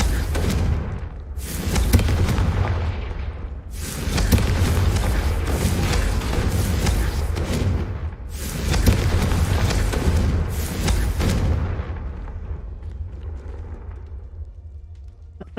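Repeated Confringo fire spell blasts go off in Hogwarts Legacy, about five loud booming bursts in quick succession, each trailing off into a rumbling tail before the sound fades near the end.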